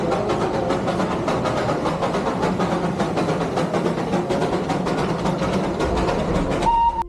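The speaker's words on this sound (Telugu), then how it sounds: "టాయ్ ట్రైన్ని ఎట్లయినా ఎక్స్పీరియన్స్ చేయాలని చెప్పి ఫిక్స్ అయిపోయాం" The Darjeeling toy train runs steadily, a loud, continuous close rumble with rhythmic rail clatter throughout and no voices.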